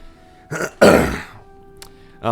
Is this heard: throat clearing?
yes